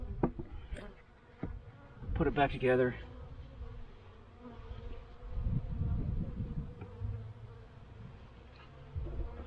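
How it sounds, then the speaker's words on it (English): Honeybees buzz in a winter hive box in Pennsylvania, a soft low hum under handling knocks and rustles of frames, with one brief spoken phrase near the start. "Bees are still in the box."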